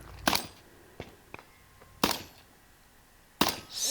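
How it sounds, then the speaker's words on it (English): Shotgun blasts during a 3-gun match knocking a steel spinner target around, three sharp loud reports spaced about a second apart with fainter metallic clanks between them. "So then he picks up his shotgun, spins that spinner"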